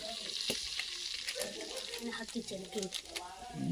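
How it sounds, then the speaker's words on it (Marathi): Homemade spice masala with turmeric sizzling loudly in hot oil in a pot on a wood-fired clay stove for a tribal-style crab curry, with close stirring scrapes and someone talking over the frying. "तेलामध्ये डायरेक्टली जो घरगुती मसाला आहे तो टाकून घेतला आहे"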